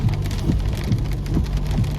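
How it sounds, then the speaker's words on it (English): Heavy rain drums steadily on a car while driving, a dense continuous patter with a low rhythmic thump repeating every half second or so, and no talk. "Lots of rain going on"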